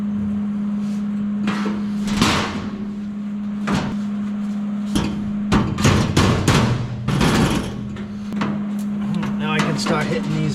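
Sharp metallic hammer blows on sheet metal of a 1927 Ford roadster strike in irregular clusters over a steady electrical hum, some hits ringing louder and closer than others.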